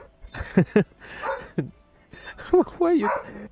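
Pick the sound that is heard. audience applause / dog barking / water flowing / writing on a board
dog barking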